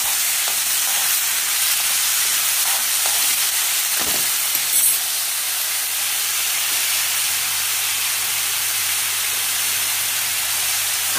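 Ingredients dry-roasting in a pan, a continuous close hiss and soft sizzle, steady throughout with a faint clatter of stirring and no voices.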